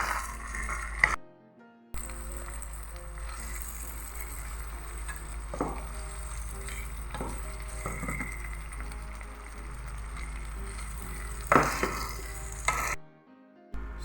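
Chicken wings are tossed in buffalo sauce, giving soft stirring and sizzling with a few scraping clinks against the pan, quiet and close, broken by brief gaps.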